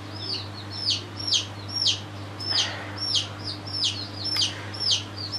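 A chick being raised at home cheeps over and over in a steady rhythm of short, high, bright peeps, fairly close, with a constant low hum underneath.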